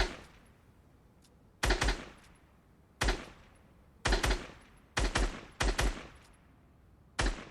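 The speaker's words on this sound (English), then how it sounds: "I want you to try and practice shooting all of them" Sharp bursts of gunfire from the video game Fortnite ring out in short clusters of two or three shots, separated by brief quiet gaps, loud and close with no talking.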